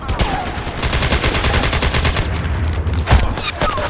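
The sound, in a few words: gunfire in the video game MAG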